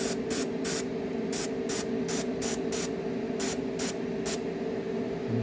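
Steady airbrush spray weathering a model railway piece hisses continuously over a low hum, with short pulsed bursts repeating roughly every third of a second, close and fairly loud.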